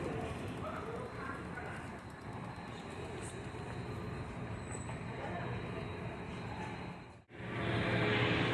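Steady rumble and rattle of a moving train fill the cabin during a ride, continuous and fairly loud, with a brief dip near the end before the noise returns.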